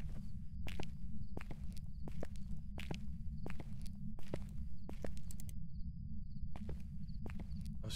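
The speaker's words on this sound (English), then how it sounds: "I thought I heard fast footsteps." Fast footsteps in the game Phasmophobia, a quick run of crisp steps over a constant low rumble, with a brief pause before the steps pick up again.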